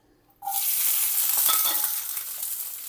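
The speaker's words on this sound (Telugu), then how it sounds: "నూనె వేడైన తర్వాత పచ్చిమిరపకాయలు వేసుకోండి" Green chillies drop into hot oil in a pan and erupt into a sudden, loud, steady hiss of frying that stays strong and even without any voices.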